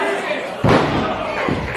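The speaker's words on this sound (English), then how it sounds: "You can feel it down to your very core when Roderick Strong chops you." A loud, sharp slap lands in a professional wrestling match, a chop from Roderick Strong to the chest, followed by a second, softer impact over crowd noise and commentary.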